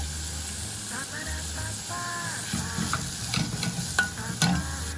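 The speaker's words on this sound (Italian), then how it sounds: "sta soffriggendo, iniziamo ad aggiungere il porro. Aggiungiamo ancora un filo di olio." Leek sautés in olive oil in a pan for an asparagus risotto, with a steady sizzle, utensil scrapes and stirring that grow busier and louder toward the end, and a faint voice in the background.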